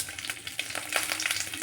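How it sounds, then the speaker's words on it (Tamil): Mustard seeds, urad dal and dried chillies sizzle and crackle in hot oil in a kadai, a bright continuous frying hiss with small pops, close and alone. "கடாய் வச்சு எண்ணெய் ஊற்றிட்டு எண்ணெய் காஞ்சிருச்சு. கடுகு, உளுந்து, அடுத்து வத்தல்,"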